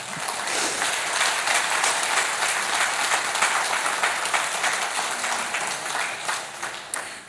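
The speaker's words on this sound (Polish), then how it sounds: "tak mogą być brawa" Sustained, even applause from a large audience at a 70th anniversary gala of a veterinary technical school in Jelenia Góra, filling the whole clip and tapering slightly at the end.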